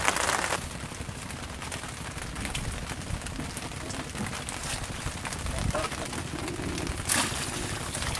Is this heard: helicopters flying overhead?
no